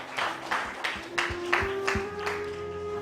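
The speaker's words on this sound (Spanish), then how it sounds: "denle ese aplauso al Señor en esta adoración que le vamos a dar a Él" A church congregation claps during a worship service, with steady, fairly loud rhythmic claps layered over sustained tones.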